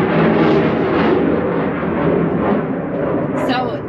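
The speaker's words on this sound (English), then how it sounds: "we are right by the airport and a jet is going by" A jet airplane passing near an airport, a loud, steady broadband roar that fills the whole stretch, close and overpowering, with a brief higher whine near the end.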